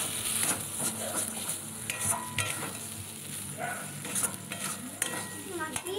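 Food for a pointed gourd mash is stirred in a kadai over a low gas flame, with soft continuous sizzling and repeated scraping and clinking of a utensil against the pan, fairly quiet throughout.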